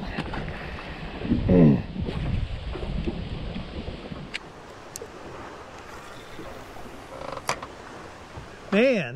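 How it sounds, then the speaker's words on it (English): Strong wind buffets and rumbles during a fishing outing in high winds, with loud gusts and a low roar that rises and falls. Voices can be heard at times. "Man, that wind just beat you up."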